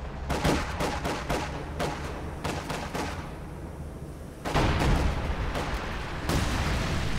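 Incendiary artillery dropping in a World War II strategy game, a rapid cluster of sharp impacts and crackling blasts, then a pause and a second heavier volley, moderately loud.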